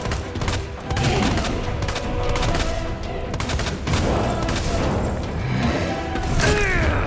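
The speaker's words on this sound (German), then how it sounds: "immer auf den brennenden Arm schießen" Rapid repeated gunfire in the Resident Evil 2 remake, aimed at a monster's burning arm, loud and dense shots crowding together with crashes and mechanical clatter throughout.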